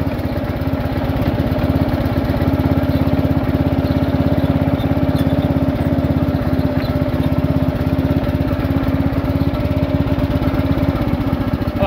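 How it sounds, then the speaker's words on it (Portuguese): A Husqvarna LT112 riding lawn mower runs loud and close, cutting grass with a steady, rough engine drone that holds at full throttle throughout, with no voices. "vamos cortar um pouquinho com ele"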